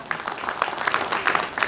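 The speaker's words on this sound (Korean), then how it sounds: "큰 박수로 이렇게 쳐주시기 바랍니다" A short burst of applause at a football association inauguration ceremony, a small group clapping briskly at moderate volume.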